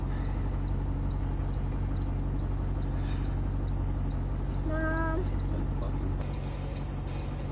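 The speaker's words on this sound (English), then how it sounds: "it's beeping, and we're not sure why" A steady electronic warning beep from a bus repeats about once a second at a high pitch over a low engine hum, with brief speech partway through.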